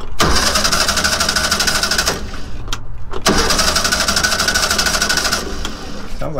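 Bugatti engine cranking over with no compression, a fast, even whirring churn from the starter that runs loud and close, pauses briefly, then resumes without catching.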